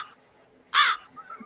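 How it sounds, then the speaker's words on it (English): A single recorded crow-like caw, played back during a livestream, sounds once as a short harsh call against a quiet background. "Him playing the bird that sounds like him laughing"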